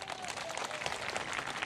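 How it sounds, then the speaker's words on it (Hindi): A studio audience at a Bengal election debate show applauds to welcome TMC MP Dola Sen, giving a short, faint spell of scattered clapping. "तालियों के साथ स्वागत कीजिए।"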